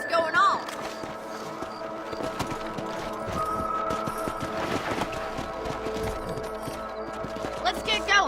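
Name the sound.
horse hooves clip-clopping in video game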